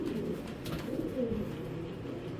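A female long-distance racing pigeon coos softly and steadily at close range, a low murmuring call that holds throughout with no voices.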